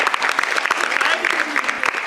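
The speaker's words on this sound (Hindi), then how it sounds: "हमारी दीदी के लिए जोरदार तालियां हो जाए" A crowd claps steadily and enthusiastically, dense applause filling the whole moment without pause.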